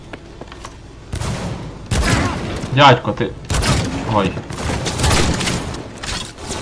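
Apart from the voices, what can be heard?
gunshots in video game Cyberpunk 2077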